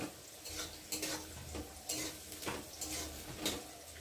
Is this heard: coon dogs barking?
no